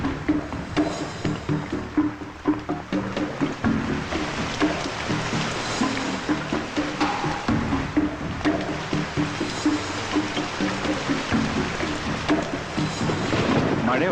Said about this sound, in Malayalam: മഴ ഉറയ്ക്കുന്ന ലക്ഷണം.